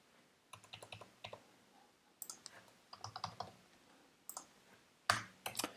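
Code is typed on a computer keyboard in quick bursts of crisp, close key clicks separated by short pauses, ending with a couple of louder keystrokes, no talking.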